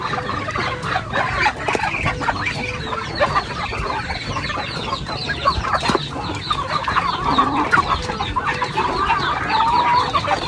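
Chickens at a fishpond farm cluck steadily and busily at feeding time, a dense, close flock chatter with overlapping calls that never lets up.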